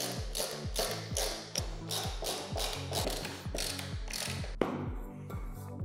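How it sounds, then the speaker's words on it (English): A desk leg screwed in by hand with a ratcheting screwdriver, a close, quick run of about a dozen regular ratchet clicks with one sharper knock near the end. "Then you're gonna just screw it in."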